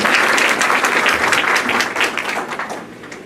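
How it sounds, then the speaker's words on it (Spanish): Audience applause greeting a speaker at a conference on privacy and political participation on the internet, a dense steady clapping from a large crowd that fades slightly toward the end. "Recibimos con un fuerte aplauso"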